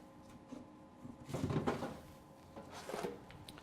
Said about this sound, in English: Step 1 will be to open the front door and empty out any of our grounds.